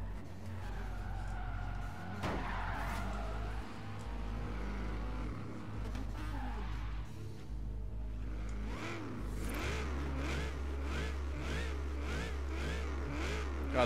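Supercharged car engine in Forza Horizon 3 revving up and down, with rising whine and tire skid, then rapid pulsing revs near the end, loud and close.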